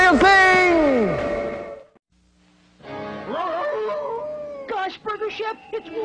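A long falling howl from a werewolf character in a Halloween commercial for Burger Chef's Wolf Burger, loud and close, then a voice-like yowling and whimpering that sounds like a person imitating a wolf.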